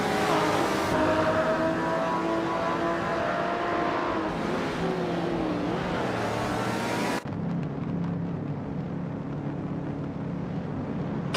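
Shelby GT 350 race cars in a racing video game roar steadily and loudly, engine pitch rising and falling through shifts, then cutting to a lower, rougher drone partway through.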